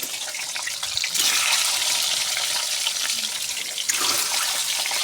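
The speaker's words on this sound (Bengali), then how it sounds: "আর এতে এই ডিমগুলো ছেড়ে দেবো এই তেলে।" Eggs dropped into hot oil seasoned with turmeric and salt sizzle loudly and close, a steady hissing fry that jumps sharply as they hit the oil and flares again near the end.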